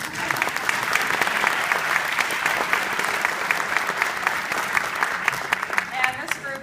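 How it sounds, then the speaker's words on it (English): Steady, lively applause from an audience at an elementary school spring orchestra concert, greeting the conductor of the after-school orchestra; sustained clapping fills the room evenly throughout with no pause. "let's give her a round of applause."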